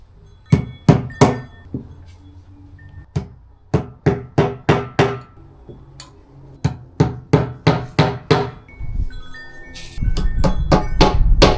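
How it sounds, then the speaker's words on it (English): Small tacks are tapped in with a hammer while needle nose pliers hold them, giving a series of sharp, close metallic knocks in irregular bursts with short pauses between strikes, then a denser clatter of handling noise near the end. "I'm using needle nose pliers to hold the tack so I don't smash my finger every time I hit the hammer."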